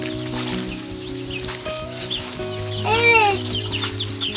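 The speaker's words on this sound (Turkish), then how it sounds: "burası tavukların evi" Chickens and chicks clucking inside a coop in a village garden, with layered hen calls and a brighter squawk near the middle, amid steady farmyard background.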